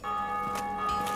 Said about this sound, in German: Hat es gerade jemand geschafft, hier die erste Glocke zu läuten?